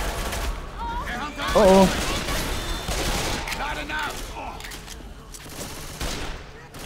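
Gunfire in Left 4 Dead aimed at an aquarium, a rapid volley of shots mixed with game noise and a man's brief exclamations, fairly loud and continuous through the scene.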